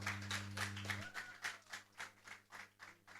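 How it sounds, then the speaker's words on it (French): Audience applause at a prize announcement for a competition, faint, thin and uneven, with scattered individual claps and a low hum underneath. "Ils méritent d'être applaudis quand même."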